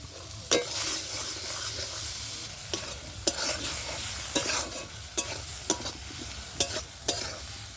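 A ground chili, cumin and mustard paste fries in a pan with a soft continuous sizzle, broken by sharp scraping clacks of a spatula stirring at irregular intervals.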